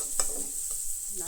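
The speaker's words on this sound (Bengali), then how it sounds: "কালি জিরা দিয়ে একটু নাড়াচাড়া করব" Kalonji seeds frying in a pan and being stirred for kosha murgir mangsho, with a brief steady sizzle and a couple of soft spatula scrapes, close and quiet.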